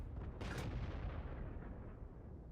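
Artillery gun firing in World of Tanks, one heavy booming blast that opens with a sharp crack and then rolls off into a long fading rumble, alone and fairly muted.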